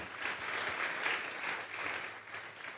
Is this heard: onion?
no